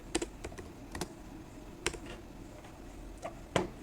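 A computer keyboard clicks faintly with sparse, irregular keystrokes as a short command is typed during a Docker demonstration. The keys sound close and isolated in a quiet room.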